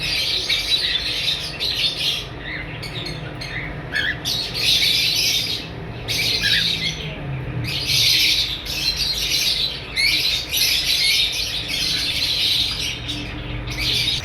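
A green Fischer's lovebird breeder pair squawks and chirps loudly and repeatedly up close, shrill bursts coming in quick irregular clusters with short pauses between.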